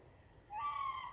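Zebra dove (perkutut) at a large breeding farm in Ponorogo, Indonesia, giving a single soft, mellow coo that rises out of quiet background, faint and close.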